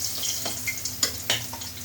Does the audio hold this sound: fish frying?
yes